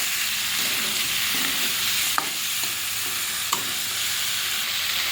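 Curry with shrimp, potato, ridge gourd, sour yogurt and a little sugar stirred in a pan: steady soft sizzle with a couple of sharp spoon clinks against the pan, no voices.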